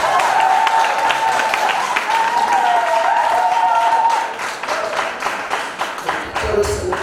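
A church congregation applauds during a prayer service, rapid claps under a sustained sung or shouted tone, with the clapping thinning out toward the end.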